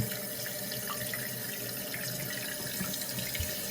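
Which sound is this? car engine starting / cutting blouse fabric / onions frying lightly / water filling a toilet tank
water filling a toilet tank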